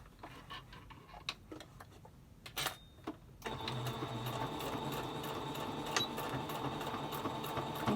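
A sewing machine stitching a pleated fabric face mask, first a few short stop-start bursts, then a steady, close, rapid mechanical whir and tick of continuous stitching, with no talk.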